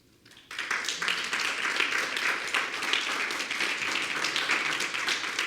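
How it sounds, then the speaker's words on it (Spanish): Church congregation breaking into sustained applause after brief near-silence, dense and loud clapping filling the space with scattered voices underneath. "Dele un aplauso al Señor."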